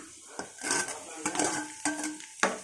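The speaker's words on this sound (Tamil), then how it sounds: "குடமிளகா கொஞ்சம் வதங்கட்டும். ஒரு நிமிஷம் வதங்கினா போதும்." Capsicum sautéing in a pan for chilli paneer, stirred briskly with a metal spoon that clanks and scrapes against the pan in a quick uneven rhythm over a faint sizzle.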